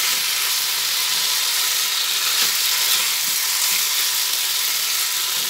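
Curry masala sautéing in oil in a pan gives a steady, dense frying hiss that holds evenly throughout, with a few faint stirring taps.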